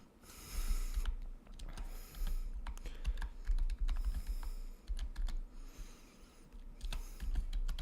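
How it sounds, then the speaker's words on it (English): Rapid clicking of computer keys typed one-handed, bursts of keystrokes separated by brief pauses, close and fairly loud with no talking. "I'm typing with one hand right now."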